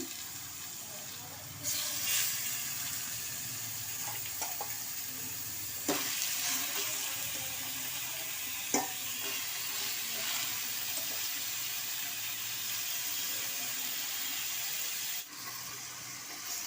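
Koyyinga sea fish pieces frying with browned onions in a pan, a steady close hiss and sizzle throughout, broken by a few soft clatters as pieces go in and shift.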